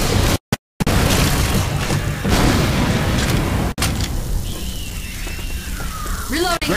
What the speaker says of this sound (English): Molotov coming!